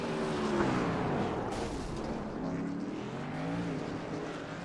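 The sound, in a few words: race trucks on track in TWR Truck Series racing video game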